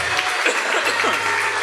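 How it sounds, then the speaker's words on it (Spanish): A church congregation at a Spanish-language service applauds: a short, dense burst of many hands clapping together, fairly loud and steady, with a voice faintly underneath. "Dale ese aplauso a Jesús."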